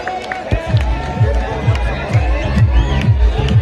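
A dense, loud crowd hubbub fills the Chandur wrestling ground fair, with many voices babbling at once and a steady rhythmic drumbeat pulsing underneath.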